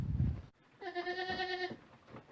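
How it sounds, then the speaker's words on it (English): One drawn-out goat bleat rings out clearly inside a barn housing around sixty goats, adults and month-old kids, with rustling barn noise before it and a quieter stretch after. "In the barn there's a lot of life, 60 goats to be precise"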